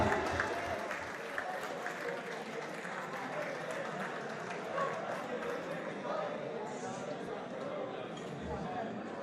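Audience applause welcomes poet Khalid Shrief at the Jashan e Qamar poetry gathering: a steady, dense wash of clapping that holds for several seconds, with voices mixed in.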